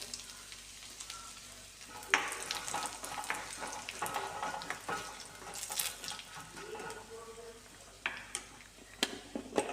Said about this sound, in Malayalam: ഒരു രണ്ട് കറിവേപ്പില കൂടി ഇട്ട് കൊടുത്തു ഒരു രണ്ട് മുളകും കൂടി ഇതിനൊന്നിച്ച് ചേർത്ത് ഒന്ന് മൂപ്പിച്ചെടുത്തതിന് ശേഷം